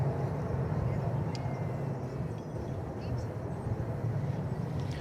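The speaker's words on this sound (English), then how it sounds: "While just passing overhead is a plane coming in from Seattle," An American Airlines jet passes overhead on approach to DFW Airport, a steady, loud broadband engine roar holding throughout without any voice.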